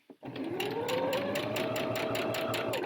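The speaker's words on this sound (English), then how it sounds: "we're just going to simply stitch all the way around that circle till we get back to where we started" A sewing machine runs fast and steady, stitching lining around a circle on a jacket, with a rapid even needle rhythm and a sustained motor whine heard close and alone after a short start.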